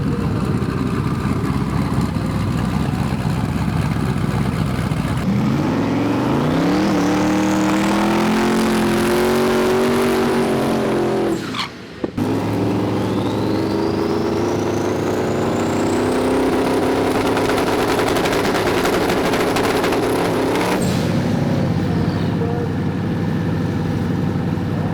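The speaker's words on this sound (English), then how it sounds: "hope to the injector gods that they live through this pass and they supply the engine with the fuel that it needs" An LS-engined drag car makes a loud, continuous pass at a race-day event, the engine note climbing steadily through the gears with a brief cut near the middle before pulling hard again and fading at the end.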